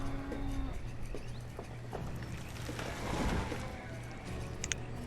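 Cattle lowing in the town-building game Banished, a few low drawn-out moos over a steady bed of ambient farm and village game sound, moderately quiet with no talk.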